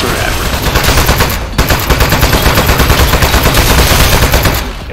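Rapid, loud bursts of automatic gunfire from the video game Aperture Desk Job, a dense rattling stream of shots with a brief pause early on.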